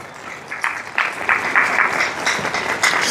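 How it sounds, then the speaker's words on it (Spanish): A church congregation claps together in loud, rhythmic bursts during a worship service, as if keeping time, with a steady murmur underneath. "Dale fuerte palmas al Señor"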